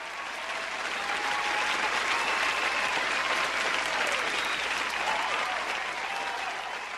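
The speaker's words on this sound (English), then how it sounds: "He paused for an energetic round of applause." A crowd bursts into a dense, energetic round of applause that swells quickly and holds steady and loud throughout, with a few voices faintly audible beneath the clapping.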